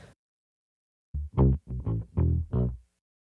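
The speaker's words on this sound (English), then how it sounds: "they throw an octaver on their guitar and it sounds something like this" A short phrase of electric guitar notes through an octave-down pedal, giving a thick, low doubled bass-like tone, about six plucked notes in quick succession.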